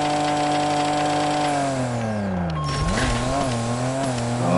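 A race car in the Racing Rivals drag-racing game launches and revs hard, its engine note climbing steadily, dropping sharply at a gear shift, then pulling up again, with tire squeal mixed in, loud and close throughout.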